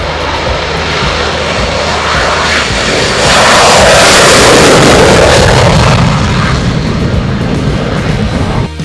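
An F-22 Raptor fighter jet engine roars loudly and continuously, swelling as the aircraft passes close by, then holding at a powerful steady rumble.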